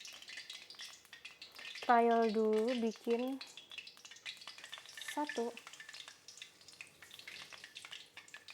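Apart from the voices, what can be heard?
shrimp fritter batter frying in oil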